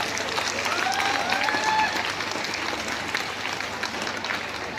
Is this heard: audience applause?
yes